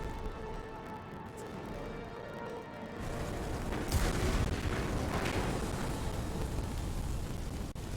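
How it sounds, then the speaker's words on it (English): A prolonged explosion in the video game Mass Effect 2, a broad rumbling roar that swells after a quieter opening and keeps churning for several seconds with no speech over it. "And this explosion's actually taking its time."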